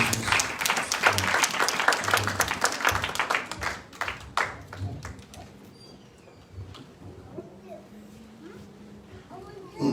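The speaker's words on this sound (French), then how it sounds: "Applaudissez l'Esprit de Dieu." A church congregation at a worship service breaks into loud clapping that fades after a few seconds, leaving quieter murmuring voices and scattered sounds.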